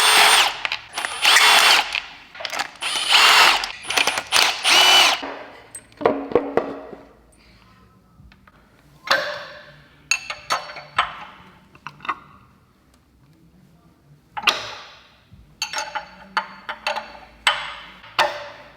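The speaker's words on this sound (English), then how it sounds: "There's a very, very loud click going on." Loud sharp clicking and rattling from the Mivec cam gear of a Mitsubishi Evo engine being built for 800 whp, coming in irregular close bursts with quieter gaps between them.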